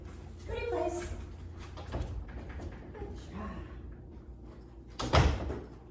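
A door is knocked on and then opened during door-manners training, giving a sharp, loud knock near the end, with a person talking throughout.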